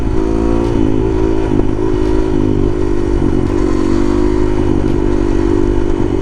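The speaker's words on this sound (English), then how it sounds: "You know, it's a dirt bike." A supermoto dirt bike's single-cylinder engine thrums loudly and steadily up close while riding, with a buzzing harmonic drone, slight pitch shifts and occasional clicks and rattles from the bike.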